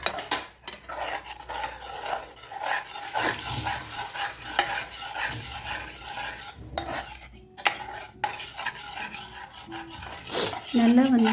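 Mushrooms being stirred as they cook in a pan for a street-stall style dish, with scraping utensil strokes and soft sizzling, and occasional clinks of metal against the pan.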